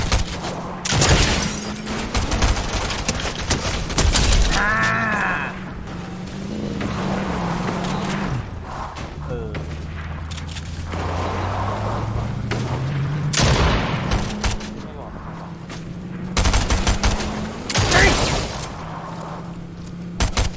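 Gunfire and explosions in the video game Fortnite on PS4, bursts of shots and booms scattered over a steady rumble, with excited players shouting over the action.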